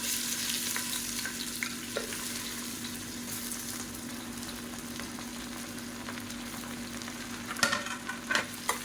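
Long-cut large onions, about 150 grams, fry in hot oil for mutton biryani, a steady close sizzle with a few louder crackling bursts near the end, no voices.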